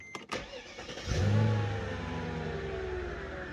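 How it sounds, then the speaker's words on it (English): A Mercedes CLK500 convertible's engine is started up close: a couple of sharp clicks, a brief crank, then the engine catches with a rising surge and settles into a steady, low idle. "let's start the engine."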